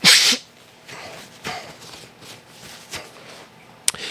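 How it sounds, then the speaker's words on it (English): A single loud sneeze bursts out at the start, followed by a quiet room with faint rustling and a brief sharp tap near the end. "I gotta sneeze."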